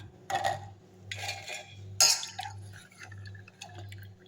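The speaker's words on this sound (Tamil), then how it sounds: "இப்போ நல்லா எல்லாம் பருப்பையும் தண்ணி நல்லா வடிகட்டிட்டு போட்டுடலாம்" Washed split peas (pattani paruppu) being drained of water in a kitchen, with a few short bursts of clattering vessel and splashing water over a low steady hum, and no voices.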